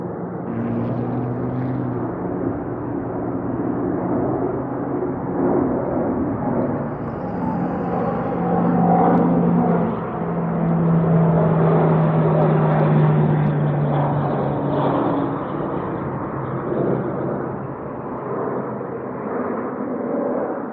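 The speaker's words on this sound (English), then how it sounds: "trying to get a plane that's flying over me" Jet airplane flying overhead near the runways of an air base, heard from a parking spot across the street: a loud, sustained broadband roar that builds and holds for about twenty seconds before easing slightly, with no talk.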